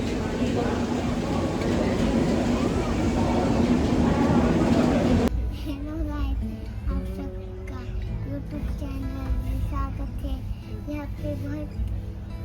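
Rolling noise from inside a moving passenger train, a loud broadband rumble that drops abruptly partway through and gives way to a quieter carriage hum while people, including a child, talk over it.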